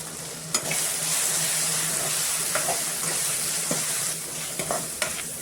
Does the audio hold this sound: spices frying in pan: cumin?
yes